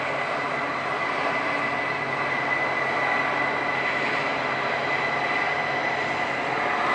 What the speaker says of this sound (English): here I'm inside the control room of the